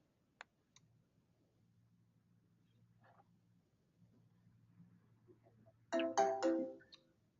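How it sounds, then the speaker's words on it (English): A phone signals an incoming call: a low steady ring tone runs under a few scattered clicks, then a louder electronic ring burst near the end, with no voices. "You see that I'm now getting the call in from Adam, no matter what phone I call on."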